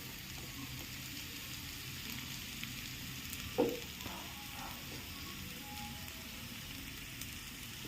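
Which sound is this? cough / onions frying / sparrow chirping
onions frying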